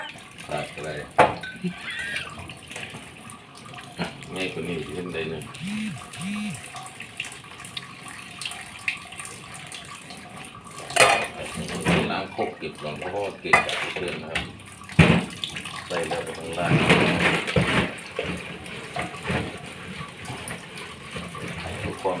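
Dishes and bowls are washed under running water from a tap, with a steady stream, splashing and clinks of crockery, while someone speaks over it throughout.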